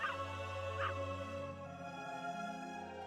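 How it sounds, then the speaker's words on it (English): A three-headed pup in the MapleStory video game gives two short, bright yips near the start over a steady droning game music bed, then the music carries on alone. "Sounds like this cute three-headed pup has something to say."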